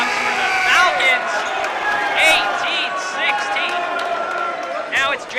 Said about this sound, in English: Hear that crowd go crazy. The crowd erupts.